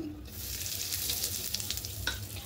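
Asafoetida dropped into hot oil sets off a close, bright sizzle that swells after a brief quiet start, with a sharp tap of a utensil near the end and no talking.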